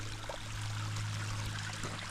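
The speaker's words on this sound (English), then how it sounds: "it tends to be that the trail becomes a stream, or is a stream from all the springs." Fresh mountain spring water trickles and streams across a hiking trail on the Appalachian Trail, a faint, steady babble with no voices.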